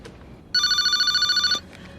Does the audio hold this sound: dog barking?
no